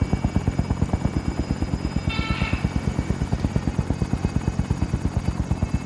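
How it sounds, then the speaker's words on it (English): A helicopter flies overhead in a first-person shooter video game, its rotor chopping in a loud, fast, even pulse that holds steady throughout, with a brief higher-pitched whine partway through. "Oh, it's a fucking chopper."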